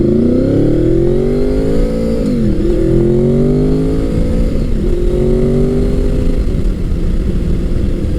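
A 1998–2001 fifth-generation Honda VFR800 V4 motorcycle engine revs up and down repeatedly, close and loud, its pitch rising and dipping in smooth sweeps with no talking.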